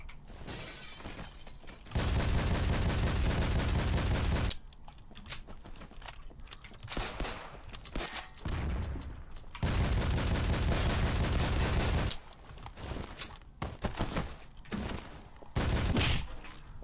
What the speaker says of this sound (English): Stallion guns, do they sound like they're in your left ear?